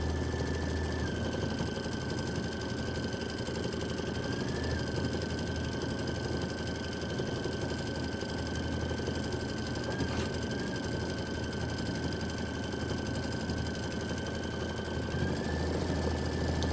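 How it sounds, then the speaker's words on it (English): An embroidery machine stitches a pieced Kimberbell Wallflower quilt block with a continuous, even mechanical drone and a faint high whine, running steadily without pause. "this is going to be 4 minutes of stitching 3 times"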